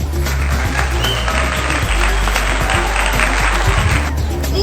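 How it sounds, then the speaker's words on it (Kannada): An audience claps for a children's dance performance at a Karnataka Rajyotsava event, dense sustained applause filling the hall, loud and steady throughout. "Please put your hands together."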